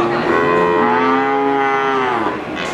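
Cow mooing loudly at a cattle market for breeding heifers in Bali, one long sustained low moo running almost the whole clip, close and clear.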